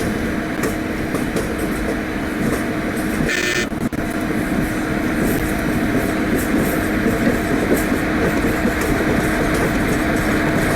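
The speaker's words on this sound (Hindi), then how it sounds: "धीरे धीरे हम आनंद स्टेशन से डिपार्ट हो रहे हैं" In the Open Rails train simulator, an Intercity Express hauled by a WAP-7 electric locomotive pulls out of Anand station: a loud, continuous rolling rumble with a brief horn toot early on.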